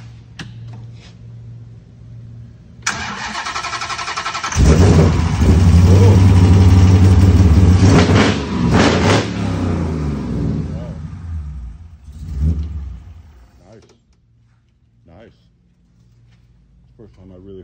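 A 1934 car fitted with a modern Hemi engine cranks and fires up, then revs hard with loud sustained roars before settling to a rough idle, close to the listener.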